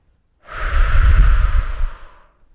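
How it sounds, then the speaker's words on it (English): A single deep breath taken close up, a long steady inhale flowing into an audible exhale, breathy and alone against silence. "Inhale with intention. Exhale and release."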